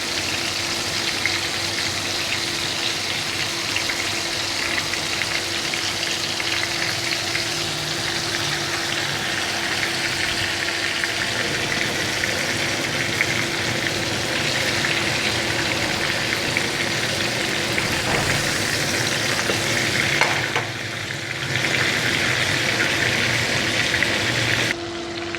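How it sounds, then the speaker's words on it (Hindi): Flour-and-egg-coated chicken deep-frying in oil, a loud, dense, even sizzle close by that runs without a break, with a slight shift near the end and no talking. "तो वैसे आप देख सकते हैं चिकन हमारा फ्राई हो गया है"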